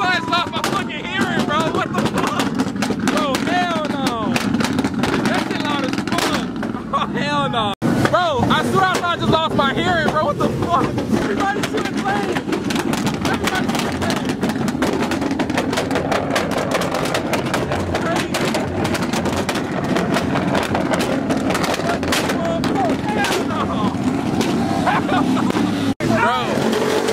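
A cammed LS-swapped Tahoe with no muffler rumbles loud and close at a truck meet, its harsh choppy idle and revving crackle continuing throughout while people talk and shout nearby.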